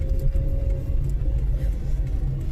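Steady low engine rumble and road noise from inside a moving car, continuous and fairly loud throughout, with no speech.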